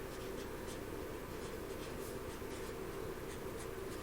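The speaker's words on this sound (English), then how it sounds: "So I'm going to write out here" A marker or pen scratches steadily across a board as a word is written, giving a continuous close scraping with soft rhythmic strokes, alone and fairly quiet.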